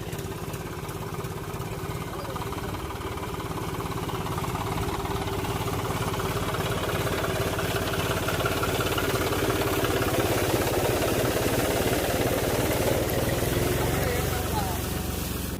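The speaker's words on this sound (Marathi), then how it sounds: "आता जे आहे आपण ट्रॅक्टर घरी घेऊन चाललेलो आहे." A tractor loaded with fodder drives to the shed, its engine running in a steady, close drone that holds throughout with no pauses.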